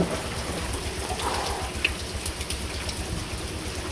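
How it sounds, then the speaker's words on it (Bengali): Heavy rain pours down steadily near a tea garden, a dense, even hiss of drops drumming on surfaces with no gaps. "অনেক বেশি বৃষ্টি গাইস।"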